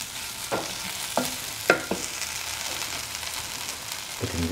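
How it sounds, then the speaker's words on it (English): Carrot sautéing in a pan for an okra and taro root stew: a steady, low sizzle broken by several sharp spoon scrapes and stirring knocks, close up and with no one speaking. "Next, carrot, saute carrot."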